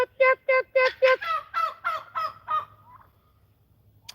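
A rapid series of about ten loud, close turkey gobbles, rattling in quick succession before fading into quiet, outdoors on a farm.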